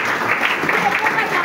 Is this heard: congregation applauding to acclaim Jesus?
yes